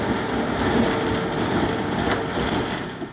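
Sleet falls at 25 degrees in a winter clearing among trees where heifers are kept. It makes a steady, dense hiss of icy pellets pattering on surfaces, with faint scattered ticks and no voices.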